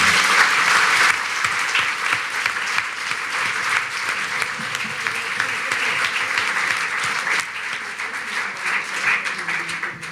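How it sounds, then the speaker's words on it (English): Sustained applause from a large crowd at a panel discussion at Litteraturhuset, Oslo, steady and loud throughout, with dense clapping filling the whole stretch. "I think we should give them another round of applause"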